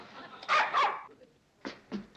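A dog gives two quick, fairly loud barks, then after a short pause two softer, clipped barks follow, all close by in a quiet room.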